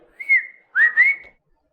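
A person whistles two clear, bright phrases, the first short and steady, the second longer and gliding upward, with a brief pause between them and silence afterward.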